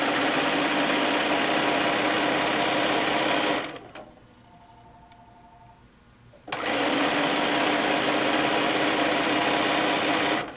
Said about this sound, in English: And we're going to sew our strip.